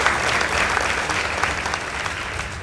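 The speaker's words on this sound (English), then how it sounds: "A round of applause for them, please." A school debate audience gives the winners of a Mudavadi Girls High School versus Butula Boys High School contest steady, dense applause, heard as continuous clapping at moderate volume throughout.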